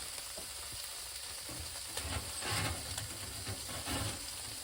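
Bacon sizzles in a frying pan, a soft continuous crackle and hiss with a few louder spitting bursts.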